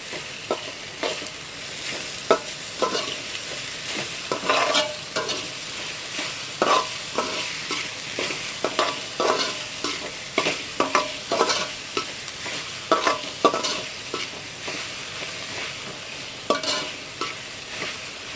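Okra thoran cooking uncovered in a pan, with a steady close sizzle broken by repeated scraping spoon strokes in an uneven rhythm, and no voices throughout.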